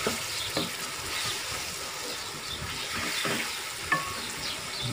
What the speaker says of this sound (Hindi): तो इसको अब अच्छे तरीके से इसमें मिक्स कर देंगे।